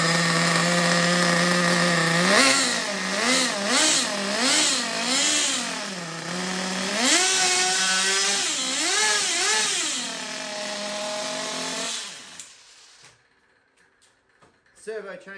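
A repaired nitro RC car engine, previously seized, running loud and close, its high buzzing pitch rising and falling in repeated revs before cutting off into quiet.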